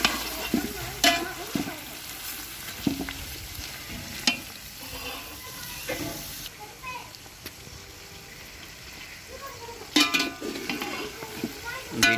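Meat fries in an oiled pan with a steady sizzle, broken by repeated scraping and clinks of a spoon stirring against the metal.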